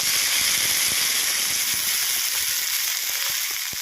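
Steady, loud sizzling of brinjal frying in hot oil in a wok, a dense hiss with scattered pops and crackles throughout.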